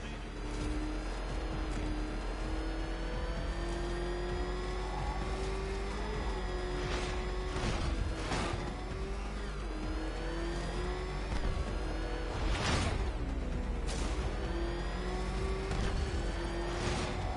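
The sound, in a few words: Batmobile engine racing in a Batman video game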